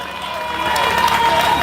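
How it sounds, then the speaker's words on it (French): Crowd at a rally applauding and cheering for Mayotte, a dense roar of clapping and voices that swells slightly, with a voice tone rising above it. "Applaudissez Mayotte s'il vous plaît."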